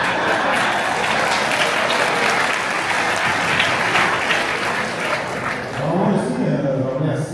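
A crowd at a municipal meeting claps loudly and continuously as a test, dense applause holding steady before easing near the end as a voice begins underneath.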